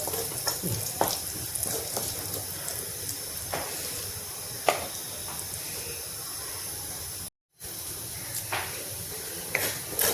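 Cumin seeds crackle in hot oil as the tempering for a pointed gourd (parwal) curry, a steady frying hiss broken by scattered small pops, with no talking.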